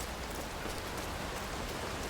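Steady rain falls over a dark, empty, storm-damaged video game level, a soft continuous hiss of drops with no other sounds or voices.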